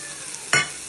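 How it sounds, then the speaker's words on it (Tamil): Elephant foot yam hitting a hot pan of sautéed onions, a short sudden sizzle and stir burst against a quiet kitchen background. "நல்லா வதங்கிட்டு நம்ம கருணக்கிழங்க போட்டுருவோம்"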